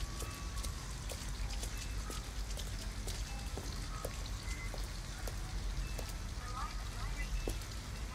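Steady rain patters and drips across surfaces in the video game Detroit: Become Human, a continuous wash of close droplets with scattered sharper taps throughout.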